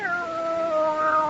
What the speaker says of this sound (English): What a beautiful, beautiful cat.